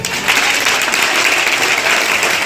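Steady applause from an audience at a school math model presentation, dense and continuous clapping at close range for the whole stretch with no voices over it.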